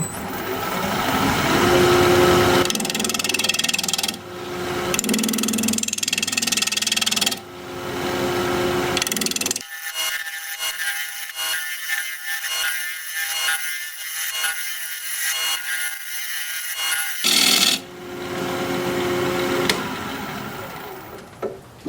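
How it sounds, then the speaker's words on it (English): A 5/8 inch bowl gouge cuts a wooden bowl turning at 1200 RPM on a wood lathe, with rain on the roof. Loud scraping and hissing cuts come close up, broken by pauses where the gouge lifts and only the lathe's whine carries on. "We're going to be turning at 1200 RPM, 5/8 inch bowl gouge"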